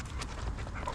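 A dog pants and whimpers softly at a dog park, quick breathy bursts close by over faint outdoor background.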